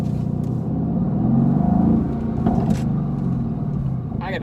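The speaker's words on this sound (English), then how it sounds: "Now put it into race mode, kick on the exhaust note." A 2018 Mercedes-AMG GT C engine rumbles in race mode, a low, throaty exhaust burble that swells briefly near the middle, heard up close with someone talking over it.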